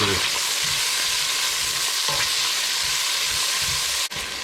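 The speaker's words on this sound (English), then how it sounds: "now my onion and garlic's just been cooking there just for a minute or 2" Onion and garlic fry in a pan with a loud, continuous sizzle close up, broken by the soft scrape of occasional stirring.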